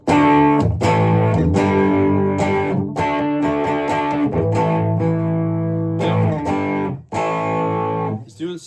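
Thick distorted electric guitar from a humbucker bridge pickup plays loud, heavy chords and riffs with brief pauses between phrases, no talking.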